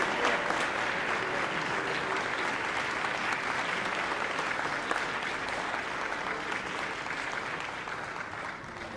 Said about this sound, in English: Give them one more great round of applause.